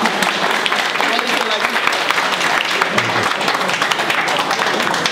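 An audience at a college venue bursts into sustained applause, a loud, dense clapping that continues steadily throughout, with a voice speaking faintly beneath it.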